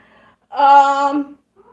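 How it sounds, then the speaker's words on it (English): A pet cat gives one drawn-out, tonal meow lasting under a second, close and clear, falling in pitch at the end, set against near silence. "my cat is here"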